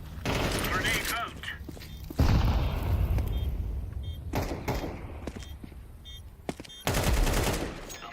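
In a Counter-Strike match, a grenade blast booms among bursts of rapid gunfire and scattered shots, loud and close, with players talking over the combat.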